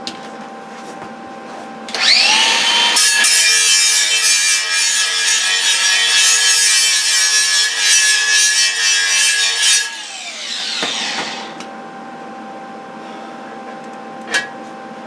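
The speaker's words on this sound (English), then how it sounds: "Let me just grind that ground down the bottom of that antler" Grinder whines against the base of a deer antler for about eight seconds, loud and steady with a harsh rasp, then spins down and trails off into quiet with a faint click near the end.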